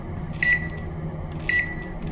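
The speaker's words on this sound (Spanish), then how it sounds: "sacó algo del refrigerador, lo metió al microondas como si nada" A microwave oven hums steadily in a kitchen, with two short electronic beeps ringing out about a second apart over the running drone.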